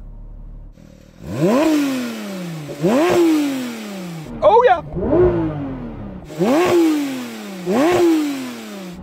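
A VW 1303 engine, with the car in gear and both paddles pulled, revs hard several times in quick succession, each loud, close burst rising and then dropping away, with short pauses between and a brief excited exclamation.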